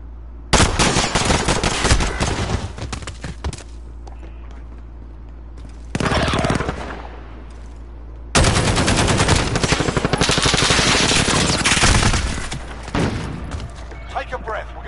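Bursts of MP5 submachine gun fire in the shooter game Modern Warfare, search and destroy mode: loud rapid automatic volleys in three long stretches separated by brief quieter gaps.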